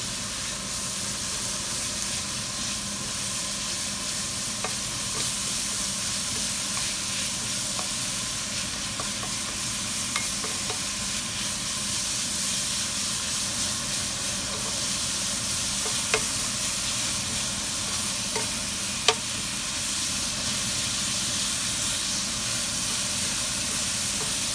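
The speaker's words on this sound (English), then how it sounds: "คนให้เข้ากันค่ะ" A spoon stirring egg into seafood soup in a pan, with a steady low simmering hiss and a few faint scraping clicks, quiet and unbroken by talk.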